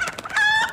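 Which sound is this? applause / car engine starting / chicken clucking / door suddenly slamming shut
chicken clucking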